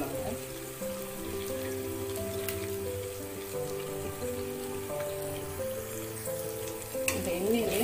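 Mashed elephant foot yam (karunai kizhangu masiyal) fries in oil with a continuous close crackling sizzle and light stirring, over a steady tonal background that lasts the whole time.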